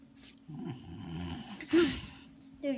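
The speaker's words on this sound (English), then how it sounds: "Dude, you're snoring." A sleeping person snores at a campsite, a low rasping rumble with a louder snort near the middle and another toward the end, faint and close.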